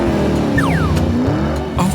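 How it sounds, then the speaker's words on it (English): A toy monster truck engine roars loudly and continuously for about two seconds, revving with rising and falling pitch and a whining squeal over a steady low rumble. "This is a monster truck."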